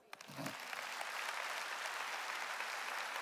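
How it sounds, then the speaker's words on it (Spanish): A church congregation bursts into applause during a Palm Sunday service, the clapping rising quickly and holding as a dense, even roar at a moderate distance. "Denle un aplauso a Cristo"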